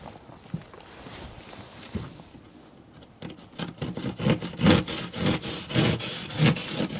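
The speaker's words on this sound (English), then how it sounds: "with that insulation saw as well, it's got a hose adapter on there, so you can just plug straight into my extractor" Insulation saw cutting through a PIR insulation board, starting with quieter scraping before settling into loud, close, rapid back-and-forth sawing strokes in a steady rhythm.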